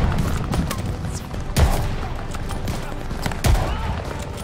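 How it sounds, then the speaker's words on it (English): Gunfire in the Call of Duty: Vanguard campaign, loud bursts of rapid shots with two heavy booming impacts, close and dense throughout. "Gonna have some fun laying down cover fire."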